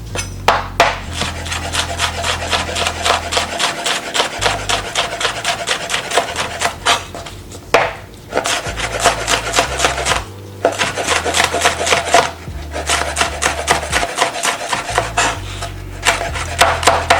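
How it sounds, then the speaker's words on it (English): A dull knife saws and rasps through old pepper flesh in repeated scraping strokes, close and fairly loud, with brief pauses between cuts. "That's how old this pepper is, and that's how probably needing a sharpening this knife is."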